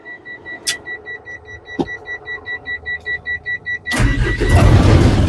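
A six-wheel 3-ton crane truck's engine turns over with a steady rhythmic cranking, then catches and starts, settling into a loud, rough rumble.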